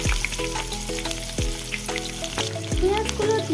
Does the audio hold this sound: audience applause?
no